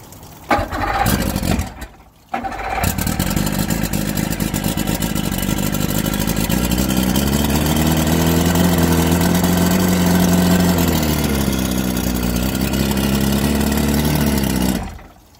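Twin 125 hp Force outboard motors on a 1989 23-foot Bayliner boat start from cold. The engines crank and sputter briefly, catch after a short gap, then settle into a steady, loud idle that holds close by until cutting off at the end.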